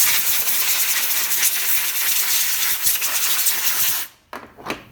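Compressed air blows excess rinse water off a piece, a steady loud hiss lasting several seconds before cutting off, followed by a couple of short puffs.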